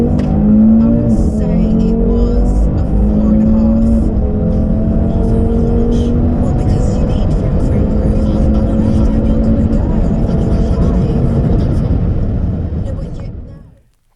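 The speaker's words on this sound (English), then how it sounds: "we will now test this on this car to see what it does" A 2015-onward Audi RS3 8V fitted with an Eventuri intake drives hard, its engine droning loud and close as it climbs through the revs, then cuts out abruptly at the end.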